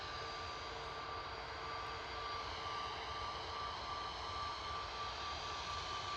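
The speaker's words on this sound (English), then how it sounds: "Ryanair from Lisbon, touching down in the background" A Ryanair jet arriving from Lisbon touches down at Manchester Airport, heard as a steady, distant engine roar that holds evenly throughout with no voices.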